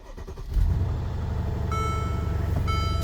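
A Mercedes SL550 engine turns over and settles into a close, steady idle after the car has sat for about a week, with faint high beeps joining near the end.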